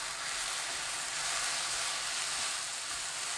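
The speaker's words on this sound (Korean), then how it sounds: "버섯이 부드러워지면 꽈리고추 넣고 센 불로 2분 볶아주세요." Oyster mushrooms and shishito peppers stir-fry in oil with minced garlic over high heat, giving a steady, even sizzle throughout with no voices.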